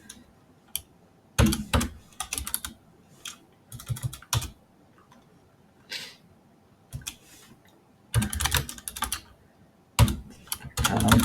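Code being typed on a computer keyboard, close clattering bursts of rapid keystrokes separated by quiet pauses, with isolated single key clicks in between.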